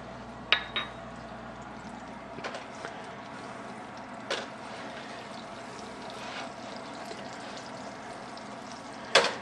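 Butter melts in a warm pan, giving a low, steady sizzle that runs beneath occasional sharp clinks and taps of kitchen utensils, close and moderately loud.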